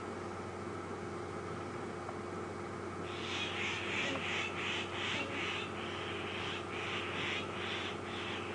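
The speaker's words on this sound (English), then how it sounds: "You can now hear more alarm calls, and these are coming from birds called Birchall starlings." Repeated harsh, rhythmic alarm calls of Burchell's starlings start partway through and continue in a steady series over a constant background hum, on an afternoon safari drive at Djuma Game Reserve.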